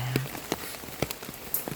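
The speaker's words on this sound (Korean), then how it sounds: "오늘은 비가 와서 좀 아쉬워." Rain falls steadily outdoors during a rainy-day walk, making a soft, even patter with scattered sharper drips and taps close by and no talking.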